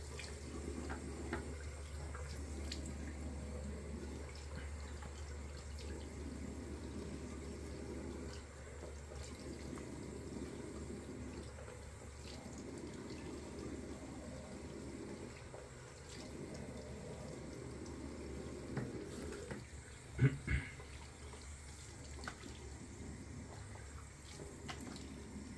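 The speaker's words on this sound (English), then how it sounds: "I'm gonna rinse off." A tap runs quietly in a sink after shaving, with a faint steady water flow and small splashing and handling noises, ending in a brief louder clatter near the end.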